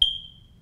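A home smoke detector gives a single short, high-pitched low-battery chirp that fades quickly, close and alone in a quiet room.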